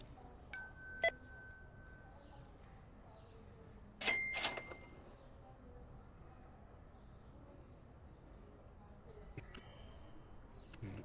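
Checkout counter bell in the Mall Simulator game, struck with a bright metallic ding around half a second and again near four seconds, with a fainter ping later, over a low background murmur.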